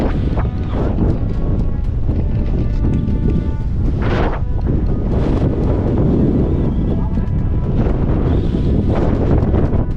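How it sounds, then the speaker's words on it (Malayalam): Strong wind on the summit of Agasthyarkoodam buffets the microphone in a constant loud roar, with gusts swelling and easing throughout and no clear voices. "കാറ്റ് കാറ്റ് കാറ്റ് കാറ്റ് തന്നെയാണ്."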